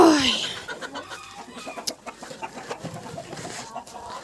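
Hens cluck in a barnyard coop with geese and turkeys nearby, a steady scatter of short close clucks, a louder squawk at the start and a bird cry near the middle.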